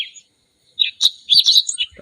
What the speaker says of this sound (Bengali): এভাবে আপনি যে কোনো পাখির রিংটোন আপনার ফোনের মধ্যে সেট করতে পারবেন